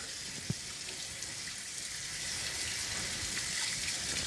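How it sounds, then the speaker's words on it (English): Cold tap water runs steadily over rice noodles in a sink, a continuous close gush that grows slightly louder partway through. "So you gotta run them under cold water."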